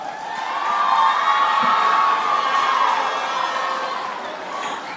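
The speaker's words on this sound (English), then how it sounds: "Clap for yourself." A studio audience at a children's quiz-show grand finale cheers and shouts for a contestant, a loud sustained crowd roar that swells and then fades gradually over a few seconds.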